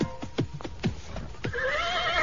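A horse in an old-time radio drama of Conan the Barbarian trots with steady clip-clopping hooves, then lets out a loud, drawn-out whinny that rises and wavers.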